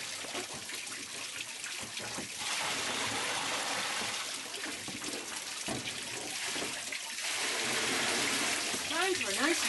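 A heavy downpour pours into a rainwater collection system. Rushing, splashing water runs steadily throughout and grows louder and fuller toward the end.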